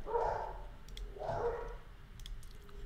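A dog barks twice in the background at moderate distance, two short separate woofs about a second apart over a quiet room tone.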